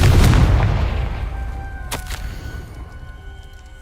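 In the Hogwarts Legacy game, a Confringo fire spell bursts with a loud, booming blast that rolls off into a long fading rumble, with a sharp crackle partway through.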